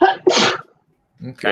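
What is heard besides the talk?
sneeze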